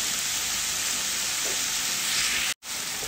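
Pork binagoongan fries in a pan after vinegar is added, a strong, steady close-up sizzle that holds throughout, broken by one very brief cut near the end, with no talking.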